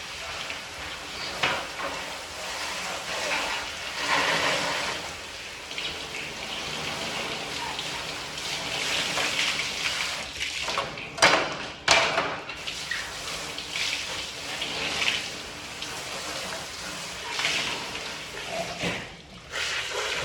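A processed turkey rinsed under running water, with a steady close hiss of spray over the carcass and a few sharper splashes and knocks, continuous and without speech.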